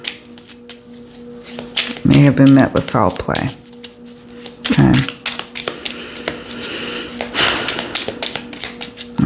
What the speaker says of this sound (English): I'm shuffling the cards to see which ones jump.